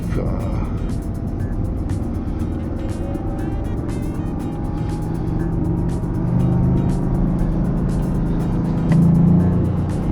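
Engine of a 2022 Toyota GRMN Yaris on a test drive, a steady low drone with rising revs and road rumble filling the cabin, while people talk over it.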